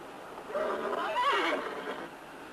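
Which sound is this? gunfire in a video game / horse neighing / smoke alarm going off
horse neighing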